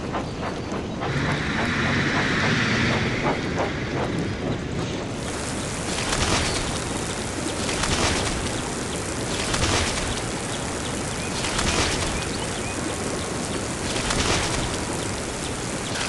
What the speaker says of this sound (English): Help your engine cool their pistons with a refreshing wash at the steamworks.